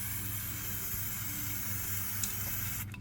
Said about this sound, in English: Go get you one of these spray nozzles if you got to do a lot of spray paint work